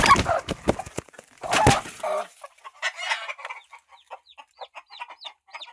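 Chickens in a coop where a hen's eggs have hatched: loud, close clucking and squawks at first, then a run of soft, high, repeated peeping from the chicks.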